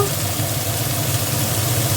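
Stalks of a vegetable fry in a pan with turmeric and salt, giving a steady, close sizzle with a low rumbling hum underneath that stays even throughout, with no voices.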